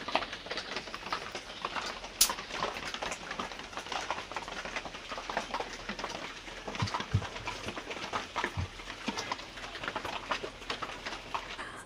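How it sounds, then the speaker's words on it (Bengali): Steady rain falls outdoors around a muddy village cooking spot, a continuous dense patter through the whole stretch with a few sharper drips and knocks standing out nearby. "তো বন্ধুরা, বৃষ্টি হচ্ছে,"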